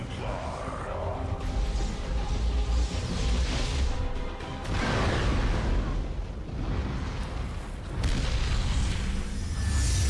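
Heavy booming explosions in a StarCraft II: Legacy of the Void cutscene roll out in bursts, deep and loud, layered with dramatic cinematic sound and a swelling score.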